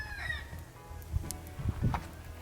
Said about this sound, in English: My rooster is very active this morning.